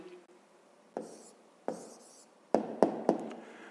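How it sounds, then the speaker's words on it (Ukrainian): A pen writes out the answer to a fifth-grade math exercise by hand: soft scratchy strokes punctuated by several sharp taps of the pen on paper, close and fairly quiet. "Ну що ж, записуємо тоді відповідь."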